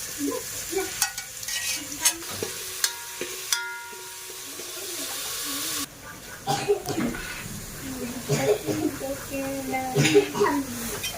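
Maggi masala, tomato sauce and soy sauce frying in a pan and being stirred, with intermittent scraping and soft sizzling, then busier stirring clatter; people talk over it in places.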